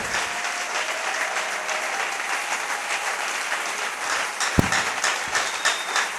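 A church congregation applauding during a service, a dense, steady wash of many hands clapping at close range, with a sharp knock near the end and no clear speech.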